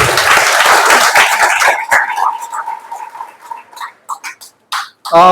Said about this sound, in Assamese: আৰু এবাৰ দিল খুলি হাত চাপৰি এটা আপোনালোকৰ পৰা বিচাৰিছো